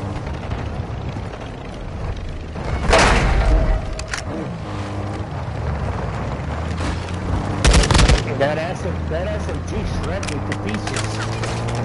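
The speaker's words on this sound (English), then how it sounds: "That SMG shredded me to pieces." Rapid submachine gun bursts in Call of Duty DMZ, loud and close, with two heavier clusters of shots around three and eight seconds over a constant engine-like rumble, while players talk over the action.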